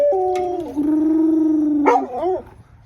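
A dog lets out goofy, wavering howls, one long warbling note that bends downward and then a shorter yodel-like rise and fall, close and fairly loud with no talking.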